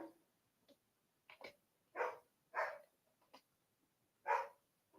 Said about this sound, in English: Dogs are barking, having a mad